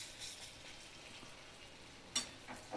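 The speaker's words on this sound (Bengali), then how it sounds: "আমি আর এক সাইডটা উল্টে ভাজা করে নিচ্ছি" Chana dal fritters fry in hot oil as they are turned, giving a faint, steady sizzle with a couple of brief, sharper crackles toward the end.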